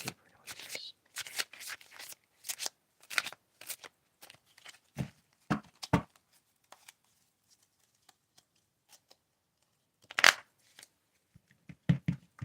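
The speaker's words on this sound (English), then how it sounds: "I wasn't going to shuffle them, but did" A mini tarot deck of stiff paper cards gets shuffled and riffled by hand up close: quick irregular bursts of crisp flapping and snapping, denser at first, then sparser with pauses and a few sharp riffles near the end.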